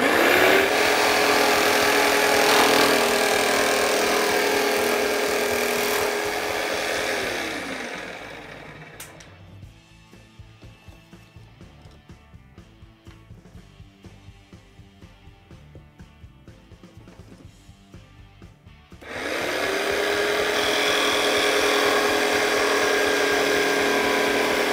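A power tool whines loudly for several seconds, winds down to quieter clicking, then roars back up again. It drives a frame cutter attachment through a wooden picture frame.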